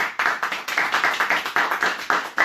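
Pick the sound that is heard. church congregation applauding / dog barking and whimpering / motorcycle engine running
church congregation applauding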